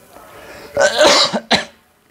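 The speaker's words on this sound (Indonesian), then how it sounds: "Maaf teman-teman ya, sedikit batuk." Two close, harsh coughs, a long rough burst followed by a short sharp one, come from a person pausing while explaining how to upload a YouTube video, with quiet room tone before them.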